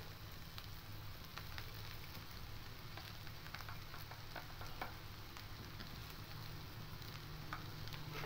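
Cut boiled potatoes being stirred and sautéed in oil for samosa filling, a dense, even sizzle with soft scraping and a low steady hum underneath, no talking.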